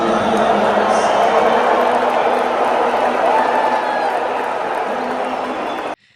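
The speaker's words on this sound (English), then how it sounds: "It seems overwhelmingly booing to me" A large crowd boos at a Donald Trump appearance, a loud, sustained roar of many voices that continues steadily and then cuts off sharply at the end.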